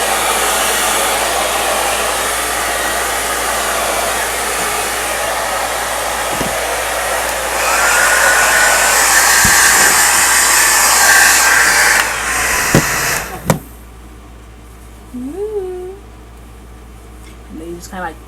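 A hair dryer blows steadily while curly hair is styled, a loud close whoosh that briefly rises in intensity before switching off near the end, after which a voice speaks.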